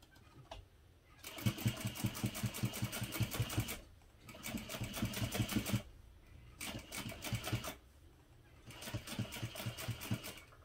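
Sewing machine top stitching at a long 4.5 stitch length on a hip pouch, running in three or four bursts of rapid, evenly pulsed stitching with short pauses between, close and clear with no talking.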